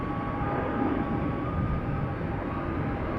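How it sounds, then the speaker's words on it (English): An Emirates Boeing 777-300 bound for Dubai climbs away from Schiphol, a steady distant jet roar with a faint tonal hum, even and unbroken for a few seconds. "Emirates flight 146 to Dubai just now took off from center."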